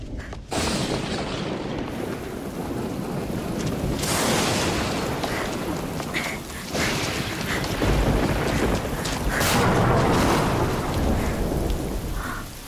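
A loud thunderstorm with steady heavy rain and rolling thunder that swells into repeated booming bursts, continuous and close for about twelve seconds, with no talking.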